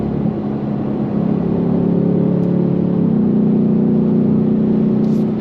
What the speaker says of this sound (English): Let's go on throttle again, shall we? On throttle, here we go.